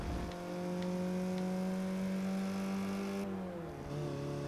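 Porsche race car engine in Forza Motorsport 6, a loud sustained high-revving tone held steady, then a downshift and shifting pitch near the end, no talking.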